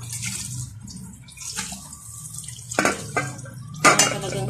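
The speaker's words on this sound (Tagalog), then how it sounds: "hugasan pa natin siya uli ng tubig" Santol fruit being rinsed in a basin of water, with soft sloshing and several sharper splashes and clatters near the end, close and fairly loud over a low steady hum.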